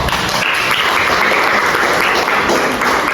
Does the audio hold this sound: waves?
no